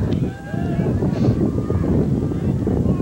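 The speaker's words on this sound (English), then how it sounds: "It is windy up here, Dan." Steady wind buffets the microphone high up at a 1985 football game broadcast with a low, rumbling roar throughout, while a commentator's voice talks faintly underneath.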